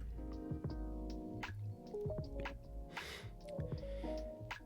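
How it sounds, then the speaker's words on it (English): A watercolor paintbrush is swished and dabbed in a water cup, giving soft, close drips and wet squishes in short bursts over about five seconds. "Rinse off our brush."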